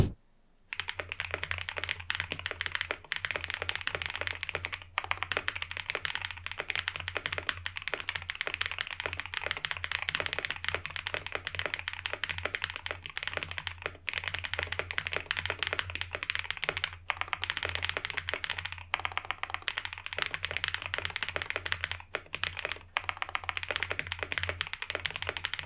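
Continuous typing test on an Epomaker Shadow X wireless mechanical keyboard, a dense, even stream of crisp keystroke clacks close to the microphone with brief pauses, no talking.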